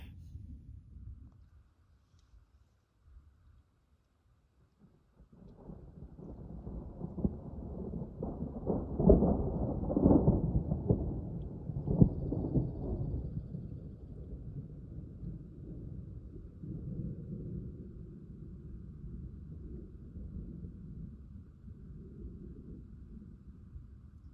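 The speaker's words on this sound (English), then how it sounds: "the thunder to our right definitely sounds a lot closer" Distant thunder rolls in after a quiet start, building to a long, deep rumble that slowly fades, with faint rain in the background.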